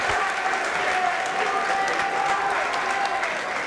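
A crowd at a boys' high school varsity basketball game claps and cheers for a made free throw, a dense, loud, continuous burst of applause that holds steady.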